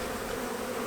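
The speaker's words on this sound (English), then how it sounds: "These are all forager bees. Just flying away." Forager bees buzzing and flying off around an opened hive during a January inspection, a dense continuous hum close to the listener with no voices.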